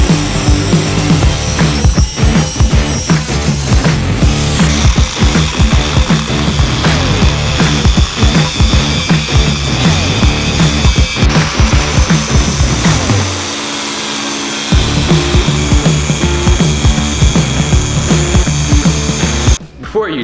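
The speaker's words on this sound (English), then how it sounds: "We're going to cut them out and break them and drill holes in them to make it exactly the right size." Steel end pieces for six-link dog bones being cut and drilled with power tools, a loud continuous grinding whine with rhythmic pulsing, a brief pause in the middle, then cutting resumes.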